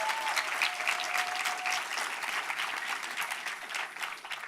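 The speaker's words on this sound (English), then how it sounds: "yes, applause" Applause from a forum audience congratulating a graduating class, dense and steady clapping filling the whole stretch at moderate level, with no voices over it.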